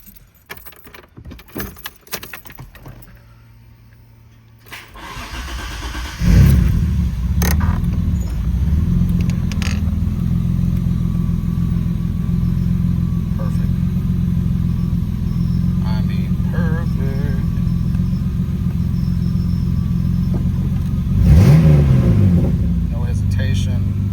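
A Mitsubishi 3000GT SOHC engine starts and settles into a steady idle after a fuel injector install, with a loud continuous low rumble, a brief rev near the end and keys jangling before it starts.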